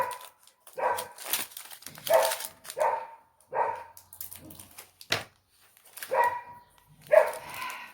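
A pet dog indoors barks repeatedly at people walking past outside on a warm day with everything open, sharp close barks in irregular bursts with brief pauses between them.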